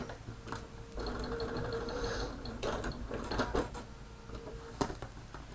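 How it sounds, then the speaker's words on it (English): A home sewing machine back stitching fabric for a cushion, a steady rapid needle whir with a short pause and changes in pace, close and alone. "And now I'm going to back stitch again."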